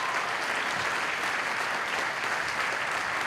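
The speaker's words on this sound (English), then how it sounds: "Let's give a round of applause for our local officials." Steady, dense applause from an audience at a groundbreaking event, honoring local officials, sustained at an even level throughout with no pauses or talk.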